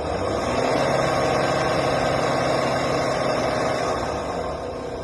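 A Honda Pilot engine runs steadily with a droning, vibrating hum that eases slightly toward the end; no voices.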